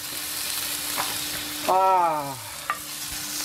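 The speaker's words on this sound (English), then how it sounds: "You gotta love the sound of bacon cooking in a skillet." Steady crackling sizzle of bacon frying in a cast iron skillet, continuous hiss throughout, with a brief tonal scrape and a small clink partway through.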